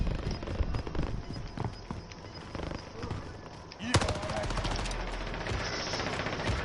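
Rapid video game gunfire, bursts of automatic shots crackling under game sounds and talk, then a sharper, louder volley breaking in partway through and continuing steadily.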